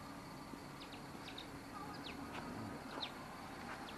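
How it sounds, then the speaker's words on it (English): Faint, sharp bird chirps repeat irregularly at a distance over a steady outdoor background hiss on a snowy day in Brooklyn. "I hear the bird, but I don't see him."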